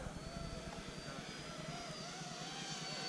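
A Freewing F-22 Raptor RC jet making a low pass over a flying field, its electric ducted fan a steady whine with a faintly shifting pitch, fairly quiet and unbroken against outdoor background noise.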